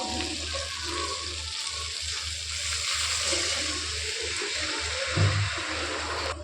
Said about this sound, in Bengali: মশলা কষানো হয়ে গেলে এবার জল দিয়ে দিব।